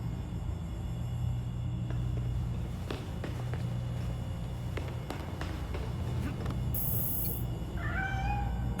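A cat meows in the video game Gotham Knights, heard over a steady low rumble with scattered footstep-like taps and a brief electronic tone near the end.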